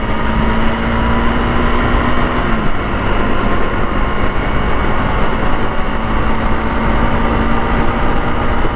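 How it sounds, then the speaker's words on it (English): A big truck rolls past close by, its heavy, steady roar and low droning hum filling the whole stretch at a loud, even level with no talk over it. "Big old truck, yeah."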